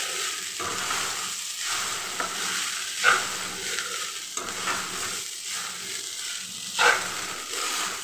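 Flattened rice upma being stirred in a hot pan: soft sizzling with a spoon scraping and knocking against the pan every second or so, close up, no one speaking.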